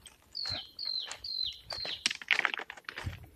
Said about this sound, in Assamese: এয়া শুনক চৰাই মাত।